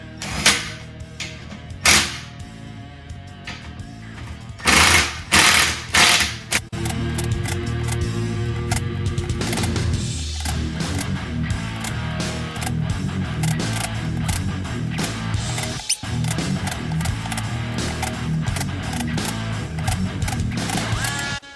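Beadlock ring bolts on an off-road Jeep wheel are tightened in turn with a hand wrench: a few sharp metallic clacks, then a steady run of ratcheting clicks and mechanical rattles, close and continuous.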